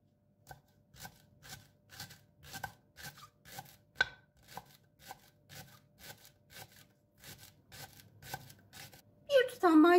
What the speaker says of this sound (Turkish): Bir adet pırasamız var. Onu da ince ince doğrayalım.